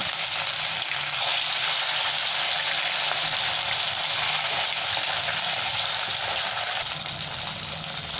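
Pieces of silver carp rubbed with salt and turmeric fry in very hot mustard oil in a kadai, giving a loud, steady, bubbling sizzle up close with no speech.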